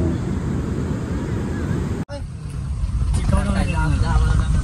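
An auto rickshaw engine runs steadily on the road between Ratnagiri and Ganpatipule, a close, rough drone with road noise and faint voices of riders mixed in.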